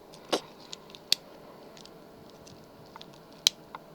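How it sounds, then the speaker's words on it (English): Small metal clicks from a toothpick-style lock pick working inside a lock, a few sharp isolated ticks spaced irregularly over a quiet background. "you can hear it like clicking as if I'm setting it, but it is not setting"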